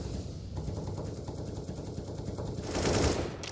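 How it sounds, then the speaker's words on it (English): Rapid automatic gunfire sprayed in CS:GO during an MIBR vs Outsiders match, a steady burst of shots running throughout and swelling louder and denser near the end. "Bullets being spammed"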